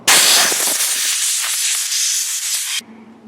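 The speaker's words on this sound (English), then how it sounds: "we'll clean out the carb real quick" A steady, close, loud hissing spray lasts about three seconds while the carburetor of a small engine on a cheap power auger is cleaned, then stops abruptly, leaving a low hum.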